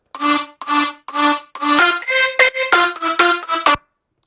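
A bright, buzzy layered future bounce synth lead with effects plays a melodic phrase of sustained and quick staccato notes, loud and alone, ending abruptly.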